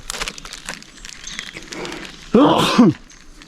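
A single sharp sneeze bursts out near and loud over a noisy outdoor cooking scene, with crackling and rustling in the background.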